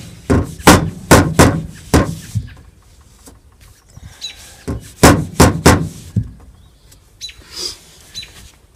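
A pontoon boat's fence bottom rail is hammered into place with sharp, ringing metallic blows in two quick clusters of several strikes each, close and loud, with faint scraping between them.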